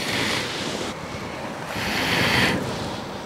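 Breath blown onto a wood cooking fire under a pot of guavas, heard as two loud, windy rushes of air close to the microphone, the second one longer.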